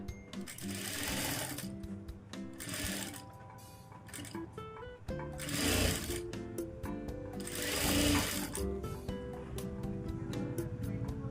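Sewing machine stitching a hemming strip on a lined blouse, running in bursts of rapid mechanical chatter that speed up and slow down with brief pauses, close and steady.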